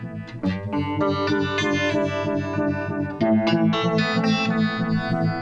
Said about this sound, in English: make it really obnoxious with the sweep, you know, almost like a creepy kind of, like an underwater sound